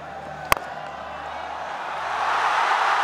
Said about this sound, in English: You will know why the crowd is roaring.